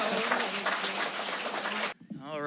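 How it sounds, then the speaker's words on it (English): Audience applause at a live debate event in a hall, a dense, steady wash of clapping that fills most of the stretch, then cuts off abruptly into a brief lull as a voice begins. "so let's give a big round of applause."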